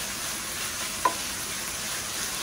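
Italian sausage and chopped onion frying in a pan, a steady close sizzle with one brief sharp clink partway through.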